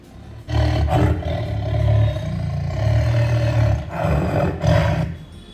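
A tiger roars loud and close in long rumbling bursts, pausing briefly and roaring again, with no voices over it.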